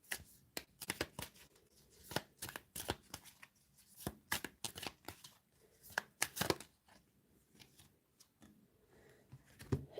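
Tarot cards being shuffled close up, with rapid bursts of riffling and soft slaps in irregular clusters, separated by short quiet gaps.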